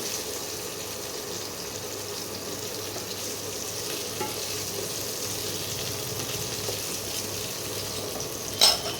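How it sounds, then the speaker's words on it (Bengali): Oil sizzles steadily in a pan while cooking an egg and cauliflower curry with potatoes. The frying hiss is close and continuous, with a brief clatter near the end. "একটু ভাজা হলে আলুগুলো এর মধ্যে দিয়ে ভেজে নেব"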